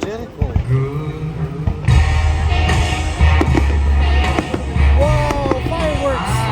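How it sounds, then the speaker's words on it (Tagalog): Fireworks burst at the Nutrien Fireworks Festival in Saskatoon, irregular booming thumps and crackles heard from a crowd, mixed with music and people talking. "Wow, fireworks!"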